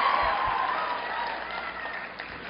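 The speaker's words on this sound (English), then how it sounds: "please give me claps for this new word that I've taught Yale." An audience at a Yale University speech applauds in a steady wash of clapping that slowly fades, with a few louder individual claps early on.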